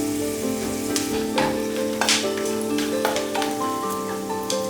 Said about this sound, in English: lightly fry the sliced almonds and cashews for 2 to 3 minutes until they are golden and fragrant